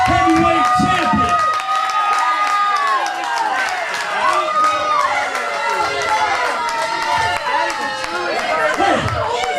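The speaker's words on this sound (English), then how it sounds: "I don't give a damn about you cheering" A crowd at a CWF Mid-Atlantic wrestling event cheers and chatters while a wrestler shouts into a microphone over the noise from start to finish.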